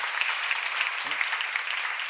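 A church seminar congregation claps in steady, dense applause throughout, fairly close and even in level, with a brief low vocal sound partway through.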